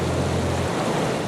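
Waterfall pouring steadily at a scenic spot, a broad continuous rush of falling water, loud and close, with a low hum dropping away partway through.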